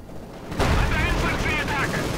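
Panzer IV tank machine gun fire in the video game Company of Heroes 2, a sudden loud burst of gunfire and explosions swelling into a dense battle roar mixed with game voices.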